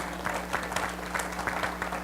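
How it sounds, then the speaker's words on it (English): Audience at a talk giving a modest round of applause, scattered claps rising and falling over a low steady hum, fairly faint and heard without speech. "All right, you can give me a bigger round of applause."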